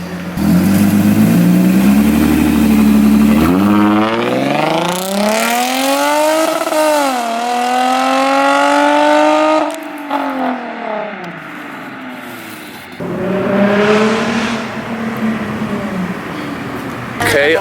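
Cadillac CTS-V race car revs and accelerates hard through rising gear pulls, a loud close engine roar sweeping up, dropping, then climbing again, with voices mixed in.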